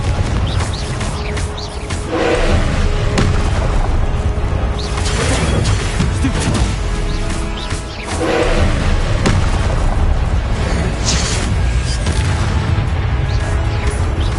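Confringo blasting-spell explosions roar in loud, broad bursts around 2–3 s and 8 s, inside a continuous heavy rumble of crashing, booming debris with no clear speech.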